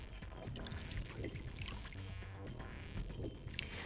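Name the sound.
pouring saline solution into a beaker, from the video game Zero Escape: Virtue's Last Reward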